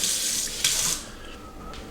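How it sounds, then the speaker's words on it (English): Water runs and swishes inside a blender during smoothie prep, a close, steady rushing splash that briefly surges and then settles. "I will add a little bit of water, kind of rinse it around, and then pour that in there."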